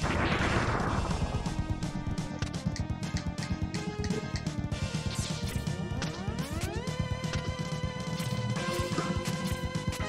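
Big explosion attack in Mega Man X2, a dense barrage of loud crashing bursts and booming impacts layered over game music with rising synth tones, continuous and busy throughout.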